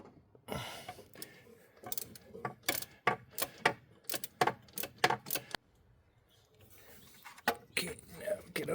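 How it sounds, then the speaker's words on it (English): A ratchet works a bottom alternator bolt on a Hummer H3, giving bursts of sharp, close clicking strokes in an uneven rhythm with a short pause partway through, and quiet talk is faintly present. "We can get a ratchet on the bottom bolt for the alternator."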